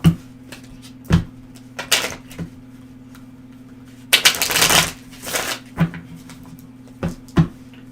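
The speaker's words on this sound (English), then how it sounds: "we'll go ahead and shuffle again." A deck of tarot cards is shuffled in several short bursts: sharp riffling and slapping near the listener, separated by quiet pauses, with one longer flurry midway.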